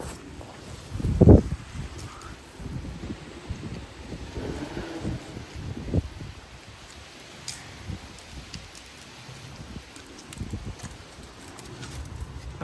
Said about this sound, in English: That was like a pretty massive gust.